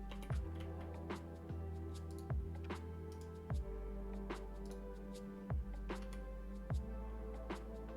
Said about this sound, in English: I'm so tired of typing this EC2 instance IP.